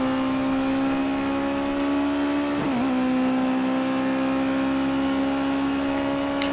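Race car engine at Circuit of the Americas in a racing game, a steady high sustained whine holding pitch through a brief dip mid-lap, loud and constant with no talk.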